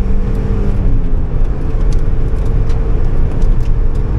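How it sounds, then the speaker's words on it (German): A Mazda MX-5 engine pulls at full throttle in third gear on the Sachsenring track, a loud, steady in-car drone with dense low rumble and wind noise, continuous throughout without speech. "Ich bin dritten Vollgas, ich kann noch nichts machen."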